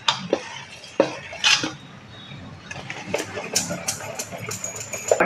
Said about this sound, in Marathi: चांगलं फेटून घेणार आहे म्हणजे ते हलकं होईल.